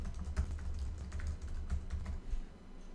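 Typing on a computer keyboard while entering a description into contact-management software, a steady quiet patter of keystrokes at close range with no talking.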